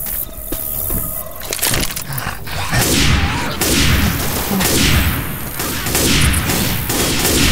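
Rifle gunfire in the Left 4 Dead 2 video game during a solo rainy level, loud bursts of shots repeating throughout over dense mechanical clatter and rumbling game noise.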